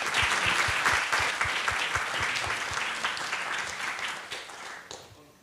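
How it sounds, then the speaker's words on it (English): A conference audience gives sustained, full applause that holds steady for several seconds, then thins out and fades toward the end. "So please give them an applause."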